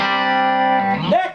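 Electric guitar on the bridge pickup played clean through a vintage Rickenbacker TR14 amp, a single sustained chord ringing bright and steady before fading into a brief pick scrape and a short note.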